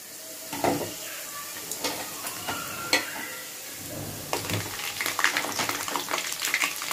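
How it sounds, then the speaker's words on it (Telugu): Chopped onions fry in hot oil for a Hyderabad-style crab curry, a steady sizzle broken by scraping stirs and clinks of a spatula against the pan, growing busier and more crackly toward the end. "ఇలా ఉల్లిగడ్డలు వేగినాయండి"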